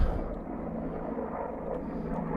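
An Apache gunship helicopter passes overhead, a steady low rotor and engine drone holding at moderate loudness throughout the short stretch, with no talking.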